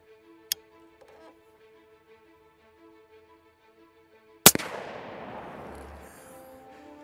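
A single .50 BMG rifle fires an armor-piercing incendiary round into an iMac, one very loud close blast followed by a long rumbling decay. A faint tick and low hum come before it.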